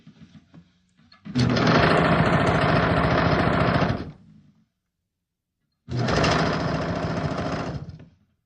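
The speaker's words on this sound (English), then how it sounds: "I have a sewing machine." A domestic sewing machine runs in two steady bursts, the first about three seconds and the second shorter after a brief pause, loud and close with a dense mechanical whir.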